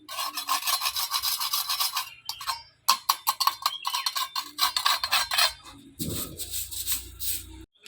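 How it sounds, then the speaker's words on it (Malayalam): Brisk scratchy strokes of a broom sweeping a dusty floor during house cleaning, close and loud, coming in rapid bursts separated by short pauses. "ഞാൻ അവിടെ അടിച്ചു വാരി വൃത്തിയാക്കുന്നുണ്ട്"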